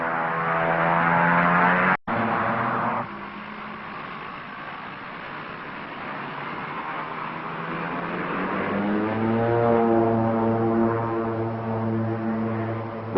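A Pilatus PC-6 Porter STOL aircraft is taking off. The propeller engine gives a loud, sustained drone, and its pitch shifts and rises as the engine power builds. A sharp dropout interrupts it briefly near the start.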